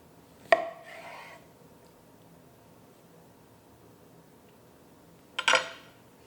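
A knife slicing through a roasted eggplant, two short close cuts several seconds apart, each a sharp contact followed by a soft brief scrape, with quiet room noise in between.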